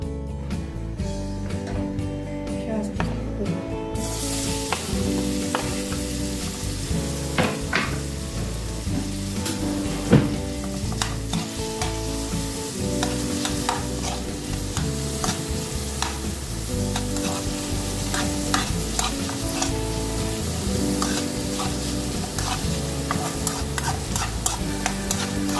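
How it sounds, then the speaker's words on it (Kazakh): Onion fries in heated oil in a skillet, a steady close sizzle with frequent stirring scrapes and clicks running throughout. "сковородкамызға майымызды құйып, жақсылап қыздырып, пиязымызды қызарғанша қуырып аламыз."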